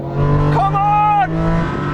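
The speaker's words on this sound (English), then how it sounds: "here comes the R34 now" A Nissan Skyline R34 in a drag race revs hard, its engine pitch climbing and holding briefly before dropping, close and loud, with people talking over it.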